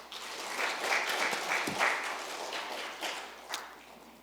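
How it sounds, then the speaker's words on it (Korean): Congregation applause during a Sunday morning church service, steady broadband clapping from a crowd lasting several seconds, moderately loud and fairly even, with a few sharper individual claps standing out. "박수 한번 주시기 바랍니다."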